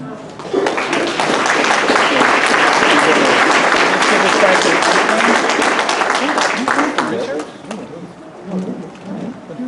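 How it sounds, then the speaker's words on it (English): Applause at an awards gala: a large crowd's clapping starts abruptly, stays loud and dense for several seconds, then thins and fades toward the end, with voices mixed in. "So just one more round of applause"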